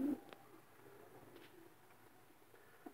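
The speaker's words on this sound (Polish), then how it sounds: "Są to młode gołąbki." Young pigeons cooing faintly, with a short soft coo at the start and then low, quiet murmuring against a hushed background.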